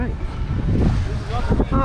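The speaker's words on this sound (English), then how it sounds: "The wind is going to be really windy, forgive me for that part" Wind buffeting a microphone along a coastal path at Ocean Cay, MSC's marine reserve island in the Bahamas, a steady low roar with gusts throughout and a voice speaking over it.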